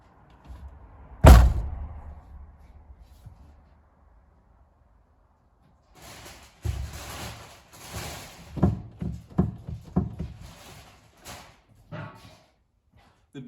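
A Honda CR-V door slams shut with a heavy thud, then after a pause comes a run of clunks, latch clicks and handling thumps.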